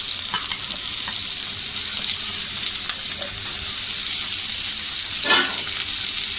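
Tomato and onions frying in a pan with a steady, close sizzle, a few soft stirring clicks and one brief louder hiss near the end.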